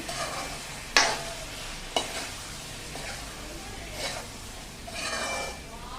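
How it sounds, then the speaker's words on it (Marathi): Spatula stirring red pumpkin (bhopla) vegetable with a little jaggery in a pan, soft scraping and a faint sizzle, with two sharp utensil knocks early on and brief louder scrapes later. "छान भाजी हलवून घ्यायची"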